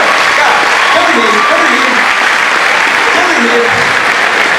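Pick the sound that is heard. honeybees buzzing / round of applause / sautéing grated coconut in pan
round of applause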